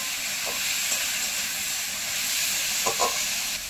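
Potatoes fry with spices in a pan for a fish roe fritter curry, giving off a steady, dense sizzling hiss with a couple of faint knocks near the end.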